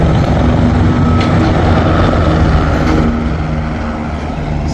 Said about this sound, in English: Got all the tour helicopters coming back.